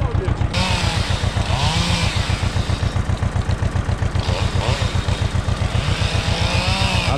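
A loud chainsaw cuts a pine tree close up, its engine buzzing in a fast, even throb with slight shifts in pitch as it bites.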